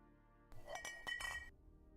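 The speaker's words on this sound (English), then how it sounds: "you can hear the milk clinking" Glass milk bottles clink together in a crate, a short cluster of bright chiming knocks lasting about a second, close and clear, with no talking.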